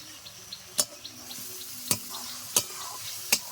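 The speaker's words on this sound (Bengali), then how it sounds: "মিডিয়াম আছে আস্তে আস্তে মশলাটা কষে নেব" Spice masala being stirred and fried over medium heat in a pan for a chicken dish, with a soft steady sizzle under a few sharp scraping clacks of the spoon against the pan.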